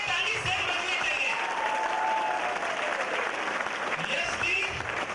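Applause rises from a crowd at a stage event, a dense, continuous clapping that fills the clip while a voice speaks over it.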